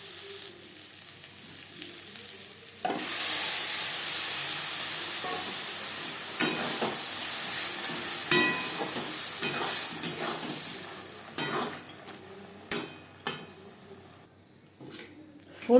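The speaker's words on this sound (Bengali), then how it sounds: "ডাল বেশ ভালো করে মিক্সড করে দেব" Chana dal sizzles loudly as it fries with tempered onions and slit green chillies in a pan, a steady hiss broken by scraping stirring strokes, fading to intermittent clatter near the end.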